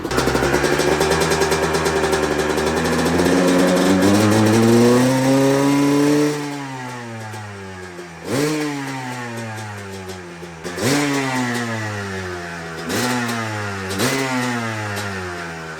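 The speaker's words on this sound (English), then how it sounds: "Bike literally started first kick this morning." A Honda CR250 two-stroke motorcycle engine runs loud and close, holding a high buzzing rev before dropping to a ragged idle, then blipping the throttle in several sharp bursts that rise and fall again.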